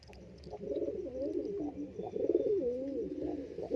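Madrasi racer high-flying pigeons cooing nearby, a run of throaty, warbling coos that rise and fall and overlap, growing fuller toward the end, with no voices over them.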